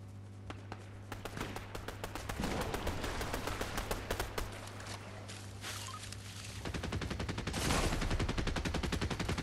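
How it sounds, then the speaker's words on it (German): Gunfire in the video game Fortnite, with rapid repeated shots crackling in fast bursts at moderate distance, mixed with running footsteps and a quiet voice. "Hier oben schießt es"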